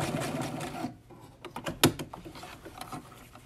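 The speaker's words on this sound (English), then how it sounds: "Now I'm going to use a broken zigzag stitch or an elastic stitch" A sewing machine runs a broken zigzag elastic stitch to tack elastic on a fabric face mask, a busy mechanical whir that stops briefly and then resumes in short bursts with clicking, close and moderately loud.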